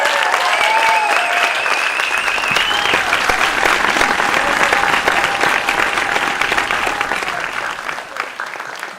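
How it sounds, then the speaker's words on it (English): Sustained applause from an awards ceremony audience, steady and loud for several seconds before slowly thinning out near the end, with no speech over it. "Round of applause, please."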